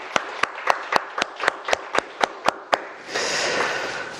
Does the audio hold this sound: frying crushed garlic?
no